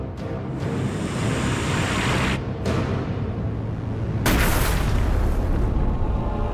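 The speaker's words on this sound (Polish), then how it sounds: "Barb strzela torpedę samonaprowadzającą." A homing torpedo strikes a coastal freighter at sea: a loud, continuous roaring rumble that swells into a sudden, heavier burst of noise near the end, with no voices.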